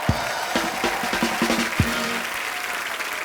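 Studio audience applauding on a comedy talk show, a steady broad wash of clapping and light cheering with a few musical notes sounding over it.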